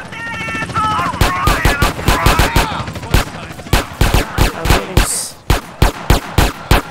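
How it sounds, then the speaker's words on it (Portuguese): Police characters open fire in GTA San Andreas running a ninja shinobi animation mod: loud, sharp gunshots crack in quick bursts, then slow to evenly spaced single shots, close and dominant over a brief tonal backdrop at the start. "Olha o jeito que ele atira."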